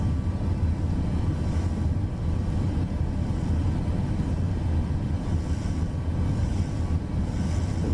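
An aircraft in Microsoft Flight Simulator 2024 flies with its landing gear down, producing a steady, loud engine and airflow drone that holds unchanged throughout with no talk over it.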